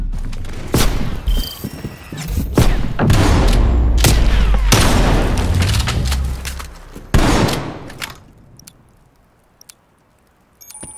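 Gunfire from the video game Call of Duty Black Ops Cold War: loud, close bursts of rapid shots and sharp blasts crowd the first eight seconds, then thin to scattered faint pops and near silence.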